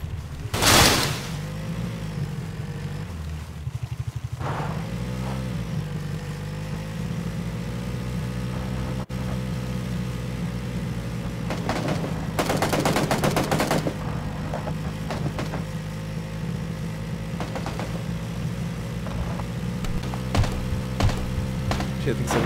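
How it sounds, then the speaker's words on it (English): Gunfire rings out in the video game Battlegrounds, with sharp shots and a rapid flurry of bursts over a steady background hum, fairly loud and intermittent. "I think someone's shooting at"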